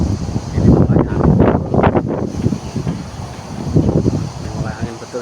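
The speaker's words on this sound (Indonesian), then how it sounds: "ini mulai angin ya. Ini mulai angin." Strong wind gusts buffet the microphone outdoors in rising and falling low rumbling bursts while someone talks over them.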